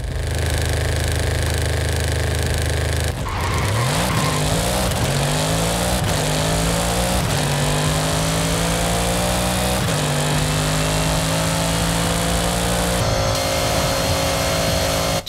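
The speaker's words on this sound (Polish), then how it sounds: "Launch control." A 2021 Audi RS6 launches with launch control. The loud engine holds a raised idle, then bursts into hard acceleration with climbing revs through several gear changes, close and continuous.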